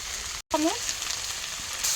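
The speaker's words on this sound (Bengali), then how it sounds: "আলুগুলো ভাজা হয়ে গেছে, আমি এই মশলাগুলো দিয়ে দিচ্ছি, একটু ভালো করে কষিয়ে নেবো" Fried potatoes sautéing with spices and salt in a pan, a steady close sizzle that cuts out briefly before carrying on.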